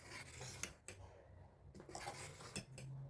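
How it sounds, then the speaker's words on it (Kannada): Groundnut dosa batter is stirred in a bowl with a metal utensil, giving quiet, close scraping and rubbing with a few sharp clinks against the bowl's side, faint and irregular, with no talking. "ಈಗ ಚೆನ್ನಾಗಿ ಮಿಕ್ಸ್ ಮಾಡ್ತಾ ಇದ್ದೀನಿ ಹಿಟ್ಟನ್ನು."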